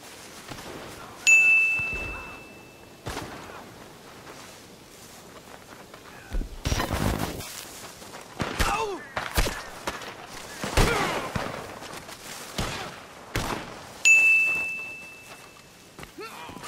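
Explosive-ammo gunfire in Red Dead Online, heard as scattered sharp cracks and thuds spread over the stretch, with a brief ringing ding near the start and again near the end.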